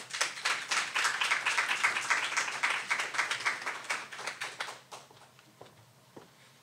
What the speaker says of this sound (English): So please join me in giving her a welcome round of applause.